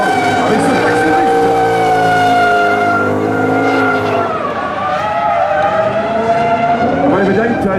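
A drift taxi at an expo show slides with sustained, loud tire squeal over a revving engine, the screech wavering in pitch as it drifts, with faint crowd noise underneath.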